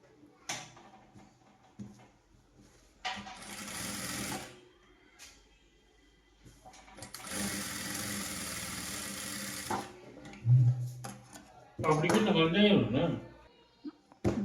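A sewing machine stitches a baby blouse in several separate bursts of rapid, steady whirring and clattering between pauses, close by, with someone talking in between runs.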